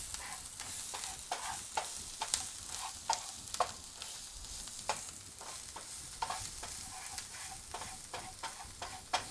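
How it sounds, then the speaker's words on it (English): Food stirred in a pan while cooking, a soft low sizzle with regular scraping strokes of a utensil repeating every second or so. "Alright, let me stir this real quick."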